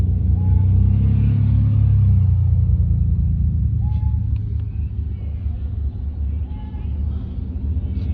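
A 1980 Pontiac Trans Am with T-tops and an automatic gearbox rumbles at idle nearby, a loud low steady drone that eases slightly after a few seconds.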